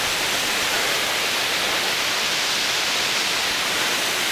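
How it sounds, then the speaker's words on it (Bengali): Water pours down Purut waterfall in Cherrapunji, heard from behind the falling curtain: a dense, steady, loud roaring hiss that never lets up. "একদম সামনে দেখুন জল পড়ছে এখানে।"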